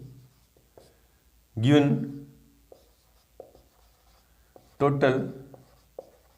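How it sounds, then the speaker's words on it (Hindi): Pen writing on paper during a maths lesson: soft, faint scratching strokes in the quiet gaps between two short bursts of speech. "तो लिखते हैं जो गिवन बातें हैं पहले वो लिखते हैं आंसर में।"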